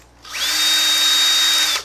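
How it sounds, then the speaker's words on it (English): Power drill fitted with a 7/16 bit boring into a hard case, a steady loud high whine that spins up, holds for over a second, then winds down, with no talk. "next we're going to move to the larger drill. This is a 7/16."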